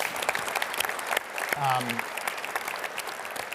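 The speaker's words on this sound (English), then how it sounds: "Let's give them a round of applause." An audience at an energy and power workers' event claps in a sustained round of applause, with a brief tonal sound cutting through partway.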